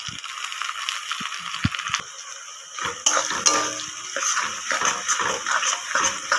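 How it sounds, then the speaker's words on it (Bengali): Chopped onion and soaked Gobindobhog rice frying together in a pan for a fish-head muri ghonto, a steady close hiss and sizzle with scattered clinks of a spatula against the pan, growing busier and louder partway through. "দেখুন আমার একসাথে পেঁয়াজ এবং গোবিন্দভোগ চালটা দুটোই আমার একসাথে ভাজা হয়ে যাচ্ছে কিন্তু"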